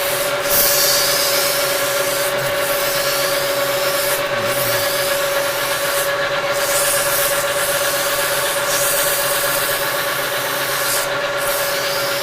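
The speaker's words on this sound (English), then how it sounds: "a little polishing by hand will be great" Hand polishing of a metal taper holder, a steady continuous rubbing and sanding hiss running the whole time with a constant workshop hum beneath it and brief gaps in the stroke.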